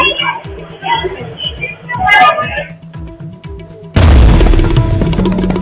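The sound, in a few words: Delhi blast explosion on CCTV footage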